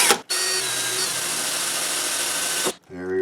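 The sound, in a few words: small power drill drilling a pilot hole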